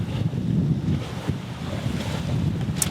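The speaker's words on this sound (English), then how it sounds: "Ah, that was a big one. That was a big gust." Strong wind gusts roar across the microphone aboard a sailboat at sea, a steady loud rushing with waves washing beneath and no voices.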